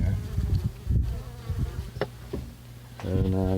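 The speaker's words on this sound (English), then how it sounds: "Right there's the bees." Bees buzzing inside a wooden deep brood box being set up on a farm, a steady close droning hum with low rumbling handling noises and brief knocks.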